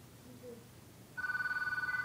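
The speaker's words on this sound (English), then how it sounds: "Oh, my phone's ringing." A phone starts ringing partway through, a steady warbling electronic trill that pulses rapidly and continuously, fairly loud after a stretch of quiet room noise.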